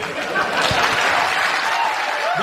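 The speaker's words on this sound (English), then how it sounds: "Listen to the crowd." A studio audience applauds and cheers loudly and continuously, a thick wash of clapping and crowd noise without pause for the whole short stretch.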